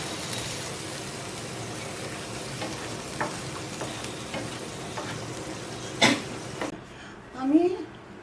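Tomato paste and chili powder with a splash of water sizzle and get stirred in a home kitchen pan, a continuous soft frying hiss with occasional scraping and a sharp clink near the end.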